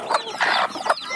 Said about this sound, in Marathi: अशा प्रकारे आपण गावरान कोंबड्या बसून आणि त्यांच्या खाली पिल्लं निघालेली